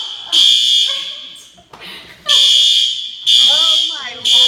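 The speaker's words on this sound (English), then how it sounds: "we have a fire alarm" A fire alarm sounds in an exercise studio, loud piercing electronic tones in repeated long bursts with short gaps between them, while people talk over it.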